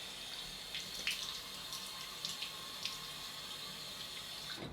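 A bathroom tap runs steadily into a basin for wetting the face before a straight-razor shave, a quiet continuous splash with a few small bright splatters.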